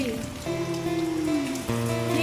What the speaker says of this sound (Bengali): হয়ে গেল বৃষ্টি।